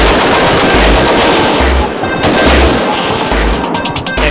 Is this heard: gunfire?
yes